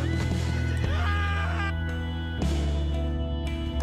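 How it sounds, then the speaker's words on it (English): A horse in the video game Jak and Daxter lets out a loud, drawn-out neigh over a busy game soundtrack, prominent and close with no talking. "The horse punished me."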